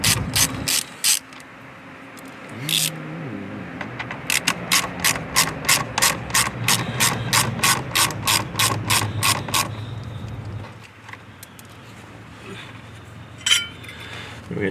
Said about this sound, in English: So we're going to go ahead and take our socket and spin those out.